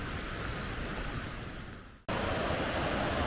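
A glacial river flows beside a mountain trail in Banff, a steady broad rushing roar close by that cuts off abruptly and then resumes at full strength.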